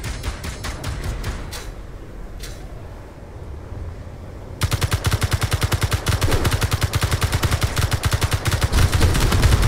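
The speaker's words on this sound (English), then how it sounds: "Oh shit! Missiles! Missiles!" Missiles and turrets fire in the Liberate Mars video game: scattered shots at first, then from midway a loud, rapid, sustained burst of automatic gunfire.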